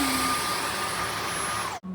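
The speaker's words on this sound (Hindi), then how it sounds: "जब मैं घर होती हूँ ना तो पूरे दिन वैक्यूम की शू शू अभी भी आपको" Household vacuum cleaner running at home with a steady, loud whooshing drone that cuts off abruptly near the end, heard alone without speech.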